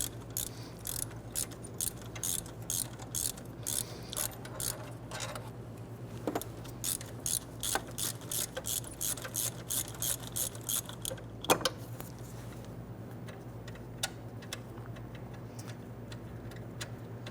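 A ratchet works loose the 15mm bolts on the intake manifold of a 1999-2004 Jeep Grand Cherokee 4.7L V8. Fast bursts of clicking come in quick, steady runs, broken by short pauses and a few sharper clanks, with no talking.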